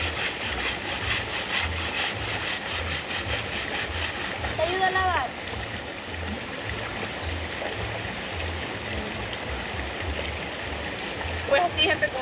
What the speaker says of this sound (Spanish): aquí es donde venimos al río nosotros todos los días